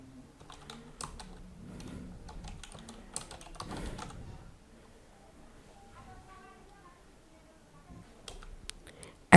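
Someone types watermark text on a computer keyboard in a quiet room, bursts of soft close key clicks and taps with pauses between, a voice speaking over parts of it.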